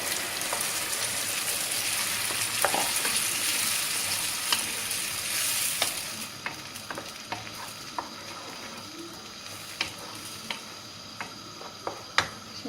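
Grated tomatoes go into a pan of sautéed onion and garlic, where a steady hissing sizzle fades after a few seconds into a quieter simmer dotted with small pops and ticks. No one speaks.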